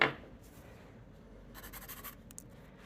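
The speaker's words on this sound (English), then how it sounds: "Sharpen up our pencil again." A drawing pencil gets sharpened at an artist's desk, a short dry scraping burst lasting about half a second, followed by a tiny click in a quiet room.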